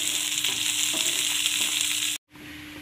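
Sliced onions and curry leaves sizzle and fry in oil in a pan for a potato fry dish, a steady close crackling hiss that cuts out briefly near the end, then resumes more quietly.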